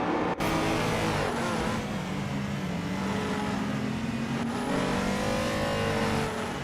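Classic 1995 Caterham Super 7 accelerating off the start of a retro street car race in a racing video game, its engine revving and climbing in pitch through several gear changes, loud and close, with no talk over it.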